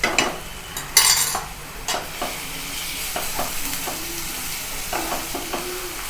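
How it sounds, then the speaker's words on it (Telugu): Ginger garlic paste frying with onions in a pan, a steady close sizzle under scattered scraping and stirring clicks from a utensil, with no voices. "అల్లం వెల్లుల్లి పేస్ట్ పచ్చివాసన పోయేంత వరకు ఫ్రై చేసుకోవాలి"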